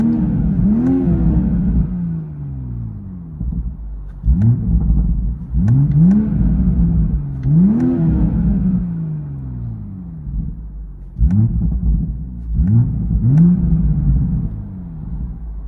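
Toyota Supra GR with a 3.0L inline-six and Borla exhaust revving, captured from inside the cabin: a deep, loud droning rumble with repeated rising blips of throttle and settling between them, no talking.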